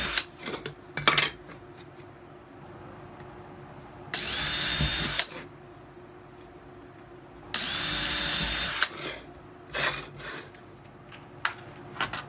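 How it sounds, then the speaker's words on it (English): A power drill whirs in two sustained bursts of about a second each, drilling pilot holes in wood, with clinks and knocks of tools and wood handling between them. "After that, I'm going to drill my pilot holes"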